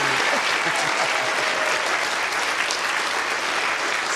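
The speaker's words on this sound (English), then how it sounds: "a big round of applause for Dr. Nikki Fox" Sustained applause from a large lecture audience, steady dense clapping throughout with no pauses.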